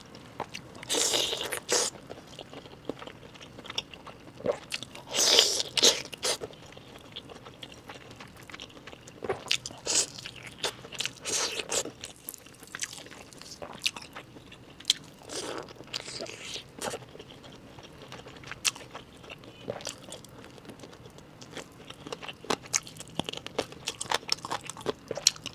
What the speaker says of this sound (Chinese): 咬到嘴里面都爆汁儿